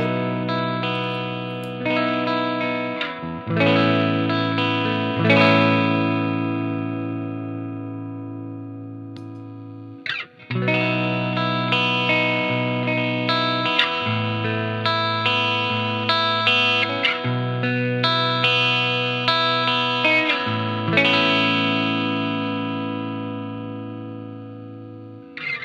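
Electric guitar played through an always-on overdrive pedal built into a Fender wallet, giving sustained driven chords and note runs with a brief break partway through, loud and close.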